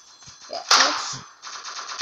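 A single loud shotgun blast from the mobile shooter Block Strike follows light clicking game sounds, with the start of another shot cut off at the very end.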